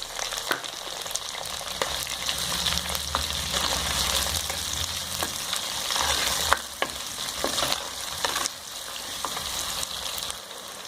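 Chopped onions sizzle and crackle steadily in hot oil with curry leaves, close up, with occasional stirring scrapes and clinks against the pan.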